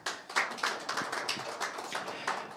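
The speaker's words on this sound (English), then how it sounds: "maybe again some small applause for him" Scattered small applause from a modest audience after a presentation at an automotive and aerospace infoday, a handful of hands clapping unevenly for a couple of seconds at moderate distance with no talk over it.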